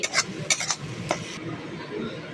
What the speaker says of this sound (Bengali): দেখছেন মশলা কষে তেল ছেড়ে গেছে।